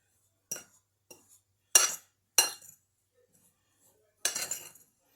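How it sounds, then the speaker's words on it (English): A utensil clinks and scrapes against a bowl while stirring a brown sugar mixture for a cinnamon roll cake, in five short, separate bursts with quiet gaps between. "you just continue to smush and stir, breaking up any lumps of your brown sugar you may have"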